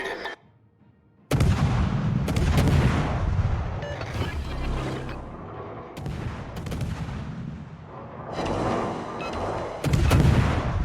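Battleship artillery in a naval combat video game fires in heavy booming salvos, a sudden loud blast after a short quiet opening followed by repeated rumbling shell fire and further big bangs, no talk.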